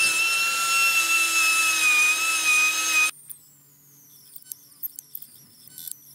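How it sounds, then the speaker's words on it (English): A high-powered drill grinds and rounds off cut metal edges while building a Super 7 Locost kit car, a loud steady whine holding for three seconds before cutting off abruptly, leaving only faint scattered clicks. "this high-powered drill actually makes a quick run of that"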